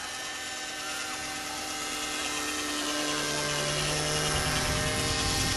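A Raptor RC helicopter flying over a white sand beach gives a steady high-pitched whine and buzz that slowly grows louder as it comes nearer, with no one talking.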